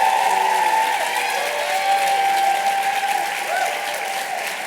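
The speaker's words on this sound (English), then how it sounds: "Give them a round of applause" Sustained audience applause at a 2023 medical and dental school class day ceremony, a dense even wash of clapping from a large crowd that continues throughout and fades slightly toward the end.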